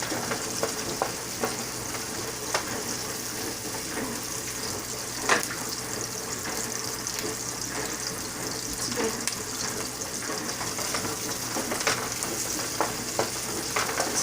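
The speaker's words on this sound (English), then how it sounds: "we're cooking the onions until they're almost transparent" Onions and garlic frying in a pan for Filipino bihon rice noodles, a loud, continuous sizzle and crackle with occasional stirring scrapes close by, nobody talking.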